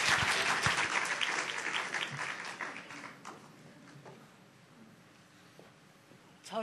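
A church camp forum audience breaks into applause, dense clapping loud at first, then thinning and fading away, with a voice speaking at the end.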